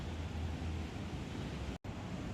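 Surf rolling in at a California beach near Silicon Valley where surfers wait for waves, with wind blowing: a steady, loud wash of noise throughout that briefly cuts out near the end.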